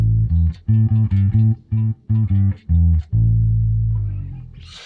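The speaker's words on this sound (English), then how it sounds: "we have something that sounds like a bass amp now" A distorted, amp-like bass guitar through an Axe Fx III SVT-style bass amp preset plays a choppy rhythmic riff of short repeated notes, ending on a long sustained note that fades out.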